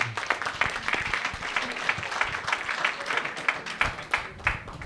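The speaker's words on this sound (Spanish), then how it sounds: "Un aplauso para todos." Audience applauding at the close of a medical ethics panel on the international code of medical ethics, a brisk crackle of many hands with some louder individual claps standing out near the listener.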